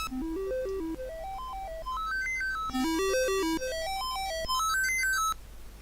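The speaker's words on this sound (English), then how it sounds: "And now it's doing the sound test." Electronic synthesized tones from a Commodore 64 diagnostic sound test step up and down in stair-like scales, repeating the pattern twice in a bright chiptune beep sequence, clear and alone.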